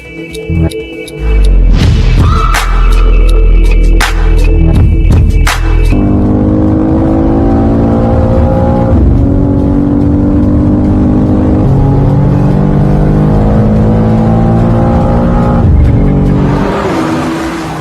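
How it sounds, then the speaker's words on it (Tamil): A race car drives on a track in Dubai, its engine roaring loud and close throughout, with rising and falling revs as it accelerates and shifts, plus sharp mechanical clatter at the start. "துபாயில் ரேஸ் காரில் பறந்த நடிகர் அஜித்"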